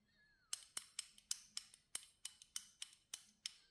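Rapid metallic clicks from a ratchet wrench, a quick irregular series of sharp close ticks in otherwise quiet surroundings.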